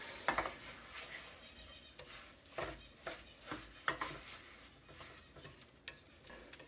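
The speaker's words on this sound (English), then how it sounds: "So right now we're mixing all the butter and the sugar in with the oats." Butter, sugar and oats are stirred in a pot, giving soft, irregular scrapes and taps against the pan every half second or so. A quiet sizzle sits underneath, and no one speaks.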